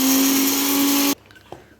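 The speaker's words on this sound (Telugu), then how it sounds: "ఓన్లీ ధనియాలు మాత్రం వేసుకొని ఒకసారిగా మిక్సీ పట్టుకోవాలి." A mixer grinder whirs loud and steady, grinding roasted coriander seeds on their own for a chicken fry, then cuts off abruptly, leaving a faint knock as the jar settles.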